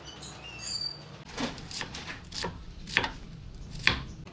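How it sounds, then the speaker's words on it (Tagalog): Knife strikes on a cutting board as ingredients are chopped for sautéing, a handful of irregular taps and scrapes, close and fairly quiet, with no one speaking. "Nahiwa na po natin itong ating mga rekado"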